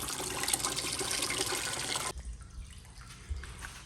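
A garden hose filling a 10-gallon aquarium with water, a loud rushing gush for about two seconds that suddenly drops to quieter sloshing and trickling.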